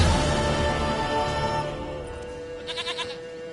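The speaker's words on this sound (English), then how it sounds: "Goat of mine, dearest, sweetest goat." A goat bleats in The Witcher video game, a short wavering run of pulsed cries near the end after a sustained tonal passage of game music, close and clear.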